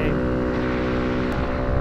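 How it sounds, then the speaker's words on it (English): A motorcycle fitted with a Yoshimura exhaust and a spark arrestor runs on a backroad near Boulder, Colorado, giving a close, steady, droning engine note throughout. "sounding as loud as the Yoshi exhaust will let him be"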